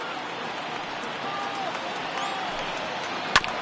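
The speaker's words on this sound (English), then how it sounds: "Now this small but vocal crowd come to their feet." Small baseball crowd at a Red Sox versus Athletics game rising to its feet, a dense wash of cheering and applause throughout, with one sharp clap near the end.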